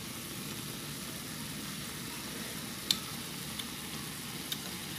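Braised vegan ginger meat simmering in a pot, its reduced liquid giving a steady, soft bubbling sizzle with one or two faint ticks, heard alone.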